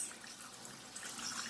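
Texturized vegetable protein is rinsed under running tap water, giving a steady, close, hissing splash that holds at an even level throughout.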